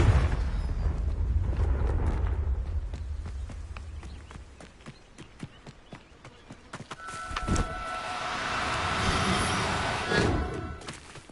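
A Confringo fire-blast spell from a Harry Potter video game erupts in a sudden, loud explosive burst with a broad, roaring tail, after a stretch of quieter game sounds and footstep-like clatter.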